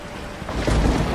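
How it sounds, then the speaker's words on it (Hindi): Heavy rain and a deep rumble of thunder from a children's cartoon story, a steady wash of downpour with a low roll swelling in the second half, with no voices. "फिर बहुत जोर जोर से बारिश होने लगती है"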